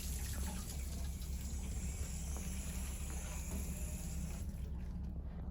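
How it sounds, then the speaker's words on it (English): Tap water runs steadily from a faucet while a bedpan is rinsed, a continuous close hiss and splash that carries on without pause and thins out near the end. "Now I'm going to turn some water on because I need to rinse the bedpan."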